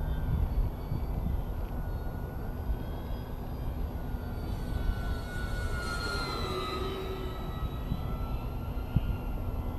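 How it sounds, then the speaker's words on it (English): An RC model airplane drones overhead on its maiden flight with a steady engine tone, and its pitch sweeps slightly as it passes; a constant outdoor hiss sits underneath. "I need to add expo onto this plane is what I've learned."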